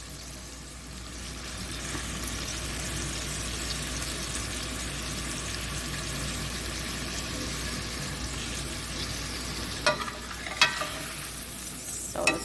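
Shrimp frying in a pan while being stirred, a steady soft sizzle with occasional scraping clicks of the utensil toward the end, fairly quiet and close.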